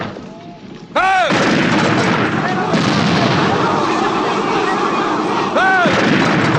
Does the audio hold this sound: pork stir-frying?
no